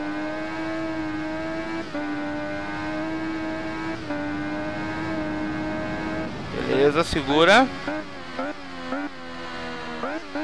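Supersport motorcycle engine in the racing game RIDE, a steady high droning whine held through most of the clip, then rising and falling revs with gear changes near the end, under someone speaking.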